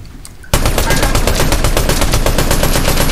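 Automatic weapon fire in Fortnite Zero Build bursts in after a half-second lull, a loud, rapid, unbroken stream of close gunshots that continues to the end.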